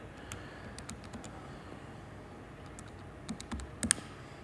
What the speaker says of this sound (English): So right now I'm just putting it into my calculator, typing it in exactly as I see it.